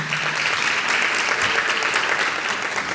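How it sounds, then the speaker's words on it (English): Audience at a city school advisory board meeting applauding a school, steady dense clapping that fills the room at an even level throughout. "let's give Coopers Point a round of applause as well"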